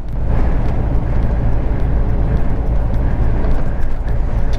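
Steady, loud road rumble from a tanker truck delivering fertilizer to a farm in the UK, a continuous low drone with no breaks and no talk.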